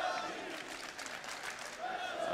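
Applause and cheering from a large esports crowd at a CS:GO grand final between Na'Vi and Luminosity on Mirage at MLG Columbus 2016, a steady loud roar of clapping filling the whole moment with no break.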